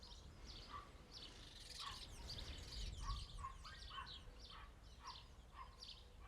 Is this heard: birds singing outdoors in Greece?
yes